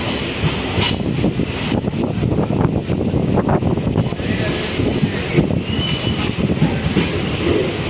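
A train pulling into Lataguri station in the Dooars, a loud steady rumble of wheels and carriages with rhythmic clatter running throughout, heavy wind buffeting the microphone.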